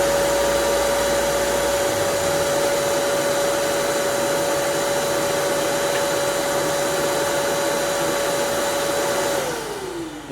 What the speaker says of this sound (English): So when I turn on the sander,